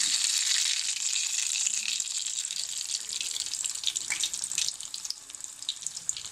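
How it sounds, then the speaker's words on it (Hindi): Semolina (sooji) pakoras dropped by hand into hot oil, frying with a steady bright sizzle and crackle that fades slightly toward the end, heard up close and alone. "पकौड़े हमारे फ्राई हो रहे हैं"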